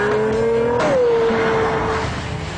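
A 650-horsepower Pagani Zonda supercar accelerating hard, its loud engine note rising then dropping at a gear change before climbing steadily again, close and continuous with no talking.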